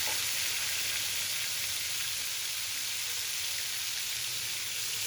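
Marinated chicken sizzles steadily in two tablespoons of heated oil in a pan, a dense, even hiss that holds at a moderate level throughout with no voices.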